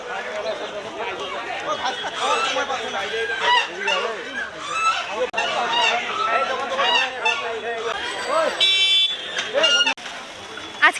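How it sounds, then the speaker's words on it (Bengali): Rooster and hen at a busy village market squawk and cluck in sharp bursts, loudest near the end, over constant crowd chatter and nearby voices. "একটা মোরগ একটা মুরগি কিনেছে"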